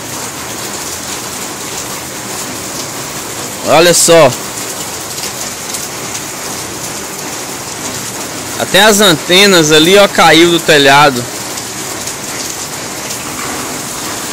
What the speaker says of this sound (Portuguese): E tá chovendo bastante ainda.